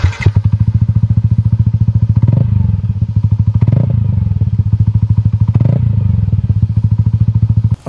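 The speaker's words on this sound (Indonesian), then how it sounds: "yang penasaran sama suara knalpotnya" 2018 Yamaha NMAX scooter with a racing exhaust idling close by, a steady deep rapid throb with slight periodic swells, loud and continuous.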